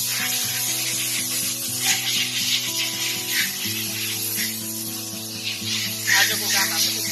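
Machines at a vehicle gasket factory in South Korea run with a steady, rhythmic low mechanical pulse and a hiss and clatter above it, continuous and fairly loud throughout.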